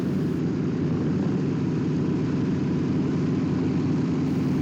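Passenger airplane flying north out of Oslo, heard as a constant, even engine drone that fills the whole stretch without any change or voices.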